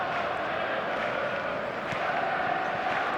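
Stadium crowd in a football video game, Chelsea against Atalanta, roaring and chanting steadily as a dense, continuous wall of noise with no pauses or single standout voices.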